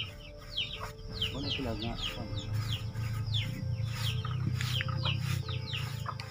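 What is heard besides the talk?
Silkie and Rhode Island Red chickens clucking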